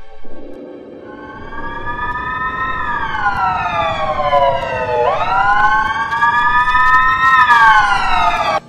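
A loud, close police car siren wails in rising and falling sweeps, rising sharply once midway and continuing steadily without voices.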